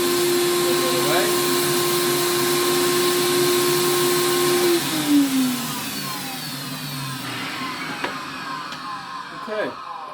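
A Pro-ject VCS2 record cleaning machine vacuums a vinyl record with a loud, steady whining drone. Partway through, the motor pitch slides downward as it winds down, and faint clicks and handling noises follow.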